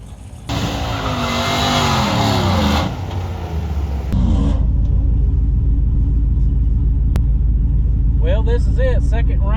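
Pickup trucks, among them a new-body-style standard cab short bed, drag racing on a street strip, with engines roaring loud and close, then dropping into a deep rumble. Tire squeal is audible at the end, and a voice is heard at points.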